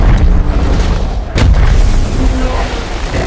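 In a science-fiction film, a Nokia mobile phone explodes in a single loud, sharp blast that cuts through a dense, booming soundtrack.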